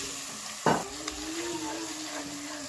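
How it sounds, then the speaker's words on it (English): Ginger garlic paste fries in a pan with a soft, steady sizzle. Early on, one sharp scrape of a spoon against the pan cuts through, and a faint tonal hum runs underneath. "Now add 2 tablespoons of ginger garlic paste and cook it until it's brown."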